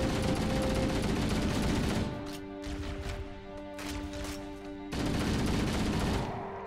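Sustained bursts of assault rifle fire from Halo: Combat Evolved Anniversary, a dense loud spray for about two seconds, then quieter scattered shots and weapon tones, then another heavy burst near the end.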